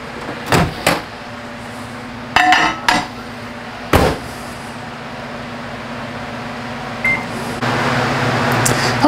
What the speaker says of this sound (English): throw it in the microwave for 4 minutes and just soften it a little bit